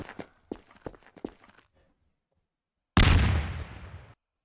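A bomb detonates in Garry's Mod, a single muffled blast with a short rumbling decay after scattered footsteps and a moment of silence.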